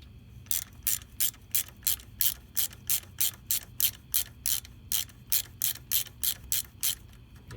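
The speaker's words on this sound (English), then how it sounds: "Use my box wrench there." A box wrench ratchets a 10 millimeter bolt on a motorcycle rear set, a V9 Bobber, in a quick, even series of about two dozen close, crisp clicks with no talking.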